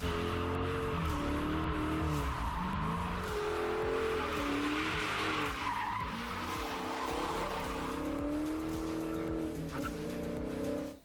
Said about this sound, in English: We burnt some rubber.